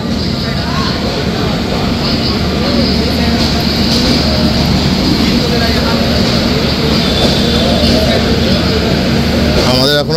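A WAP7 electric locomotive hauling a Rajdhani express arrives at a railway platform, a loud continuous rumble and roar of the passing train close by, with faint station voices beneath.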